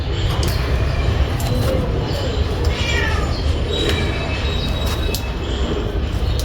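A street cat meows repeatedly in a noisy outdoor roadside spot, calling other cats to food, its calls rising over steady rumbling background noise that suggests passing traffic or a train.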